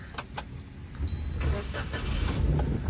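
A petrol-CNG car engine starts, heard from inside the cabin: a couple of short clicks, then a rumbling catch that settles into a steady low idle.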